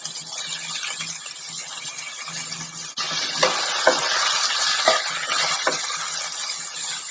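Soaked rice is stirred in a pan with green masala for prawn pulao, a spatula scraping through the grains over a steady sizzle that grows louder partway through, with occasional knocks against the pan, close up.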